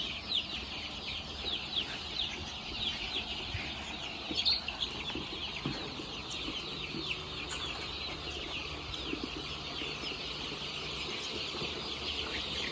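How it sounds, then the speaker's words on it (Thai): Three-breed crossbred chickens in a farm pen give scattered, steady clucks and calls under a constant bed of farmyard noise, with no close talk. "ไก่กินน้ำเนาะ"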